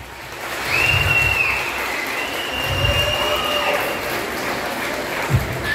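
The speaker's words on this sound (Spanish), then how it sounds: "Fuerte aplauso para cada una de las mujeres que están este día." An audience at a Women's Day commemoration applauds the women present: sustained crowd clapping swells in with a shrill whine over it, and a few low voice bursts are mixed in.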